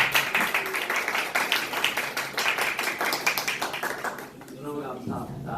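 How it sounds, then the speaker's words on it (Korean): A church congregation gives a welcoming round of applause, a brisk steady patter of claps over several seconds that thins out near the end as a voice begins speaking. "박수를"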